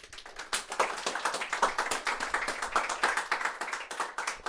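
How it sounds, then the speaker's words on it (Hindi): A crowd claps steadily at a Josh Talks UPSC session, a dense patter of many hands applauding together for several seconds. "एक बार ज़ोरदार तालियां मैम के लिए"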